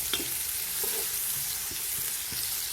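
Onion and garlic frying together in a pan for chicken mendi, a steady close sizzle with occasional soft stirring scrapes and no talking.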